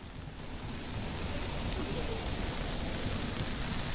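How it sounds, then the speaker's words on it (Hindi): Heavy overnight rain falling outside the Supreme Court in Delhi, a steady, dense wash of broadband noise that holds evenly throughout with no voices. "सुरभि, इस वक्त मौसम कैसा हो रहा है, क्योंकि देर रात से बारिश लगातार चल रही है"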